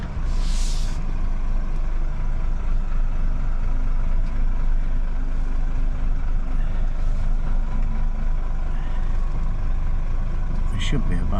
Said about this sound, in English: I'm just going to back up for Al to chuck it in this slot